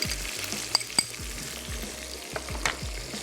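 Chopped garlic frying in tomato masala in a pot, with a steady soft sizzle and a few sharp clinks of stirring, close and alone.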